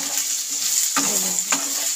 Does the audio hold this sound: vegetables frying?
yes